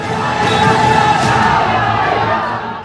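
A large crowd at a protest in Mau, Uttar Pradesh, shouts and yells together in a dense, loud, continuous roar that fades slightly near the end.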